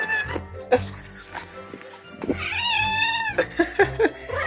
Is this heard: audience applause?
no